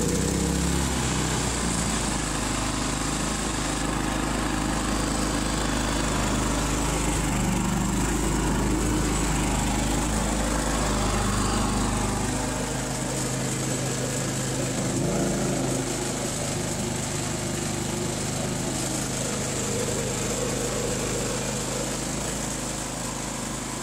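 A Harbor Freight Predator 3500w generator, freshly serviced after 1000 hours with new spark plug, air filter and oil, runs at a steady, loud, unbroken engine drone close by for the whole stretch.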